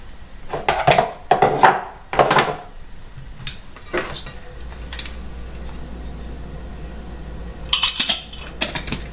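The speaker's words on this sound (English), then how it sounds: "Give it a little stir." A spoon stirs green juice in a glass, giving several quick clinking taps in bursts with a quiet pause between them.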